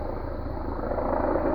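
Helicopter hovering overhead at night, a steady, loud rotor and engine drone that holds continuously without a break.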